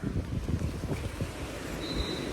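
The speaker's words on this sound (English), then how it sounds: "It's so windy." Strong wind buffets the microphone in loud, gusty rumbles, with a faint whoosh of water or surf beneath.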